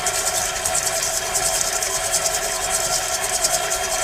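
A food processor whirs biscuit crumbs together with about half a stick of butter for a cheesecake-style base, a steady continuous motor drone with a bright rasping edge running the whole time, no voices over it.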